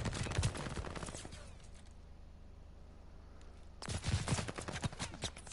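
Rapid bursts of automatic gunfire during a competitive video game match, sharp rattling volleys at the start and again near the end with a quieter stretch between.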